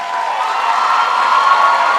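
A large audience cheers and applauds at a public event, a dense, steady roar of clapping and whoops that stays loud throughout.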